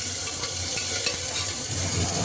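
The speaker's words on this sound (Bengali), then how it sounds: "কারি পাতাটা একটু ভাজা ভাজা হয়ে গেলে" Continuous bright sizzle of curry leaves and cumin seeds frying in oil, with soft stirring scrapes underneath, close and steady throughout.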